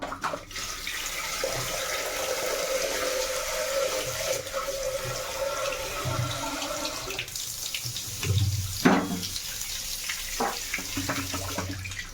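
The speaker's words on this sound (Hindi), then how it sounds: "ओ टिके पानी दे दबा।" Water being poured into a pressure cooker pot while preparing a chicken-style Odia raita, a steady splashing pour that ends with a few brief clunks of the vessel near the close.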